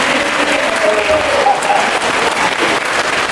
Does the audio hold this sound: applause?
yes